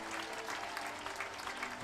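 Crowd noise at the 2022 USPBL All-Star baseball game, a steady wash of clapping and cheering from the stands, fairly distant and continuous, with faint voices mixed in.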